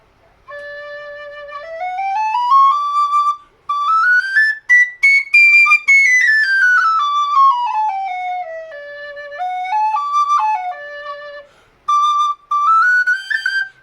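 A tin whistle fitted with the head from a C whistle plays a slow melody alone, notes stepping up and down with clear, bright tone and brief pauses between phrases.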